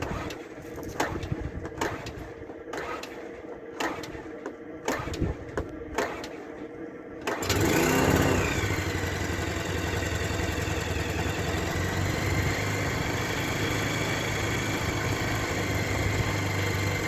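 A tractor engine starts after a few seconds of scattered knocks and clatter, then settles into a steady, even idle that runs close by and unbroken to the end, with no talking.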